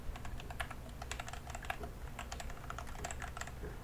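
Rapid typing on a computer keyboard while entering a terminal command, with a steady stream of close, crisp key clicks over a low background hum and no talking.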